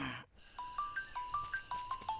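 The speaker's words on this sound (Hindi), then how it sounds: "अरे रिंग जा रही है।" A mobile phone ringtone of repeated short bright chimes, about eight evenly spaced pulses, fairly clear after a brief silent gap, with no talk over it.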